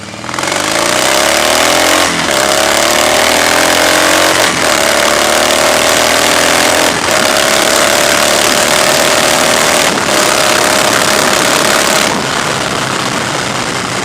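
A 2015 Harley-Davidson Softail Breakout motorcycle accelerating hard from first gear, the loud close engine note climbing in pitch through several rising runs broken by brief gear-change dips, with no voices over it.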